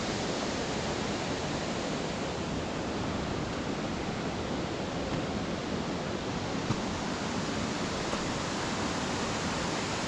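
Stichill waterfall pours in a continuous, dense roar of falling water, steady and unbroken at close range with no voices, a faint breeze occasionally brushing the microphone.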